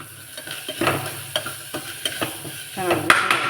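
Freshly grated coconut roasting in a hot pan, a soft crackling sizzle under repeated rhythmic scrapes and stirring knocks of a spoon, close and moderately loud.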